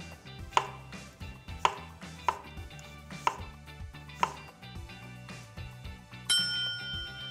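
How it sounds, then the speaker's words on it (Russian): A knife slicing radishes into thin rounds on a cutting board, about six crisp evenly spaced chops with a faint ringing tap from the board, quiet and close, followed by a brief metallic clink at the end. "Теперь редисочка пошла. Давай, маленькая моя, аккуратненько ее нарезаем слайсиками."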